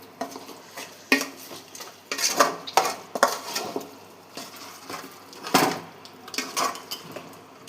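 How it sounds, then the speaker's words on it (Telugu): A spoon stirs chicken fry in a pan over a low flame, giving scattered metallic scrapes and clinks at an uneven pace over a faint, quiet background. "సిమ్లో పెట్టి స్లో ఫ్లేమ్గా కలుపుతూ ఉండాలి ఫ్రై."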